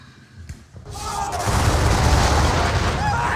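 A musket volley in the John Tiller Napoleonic Series wargame starts with a sharp crack, then swells into a loud, sustained rumbling boom of massed fire that holds steady to the end.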